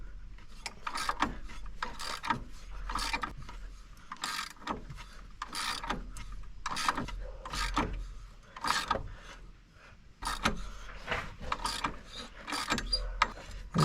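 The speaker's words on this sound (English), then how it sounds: "In this case, this pulley is coming off really well." A pulley being worked off the power steering pump of a 2009 Suburban gives steady mechanical grinding and ratcheting, with close, dense clicks and scrapes that repeat in bursts throughout.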